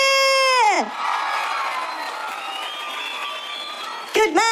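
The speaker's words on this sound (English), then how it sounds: "Ireland, give a cheer!" A live stand-up comedy crowd cheers and shouts in a steady roar lasting about three seconds, with a voice audible just before and right after.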